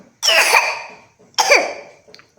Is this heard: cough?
yes